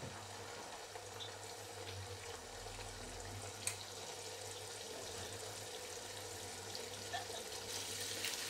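Water pours steadily into a cooking pot of onions for a potato and egg curry, a continuous faint splashing stream with no talking.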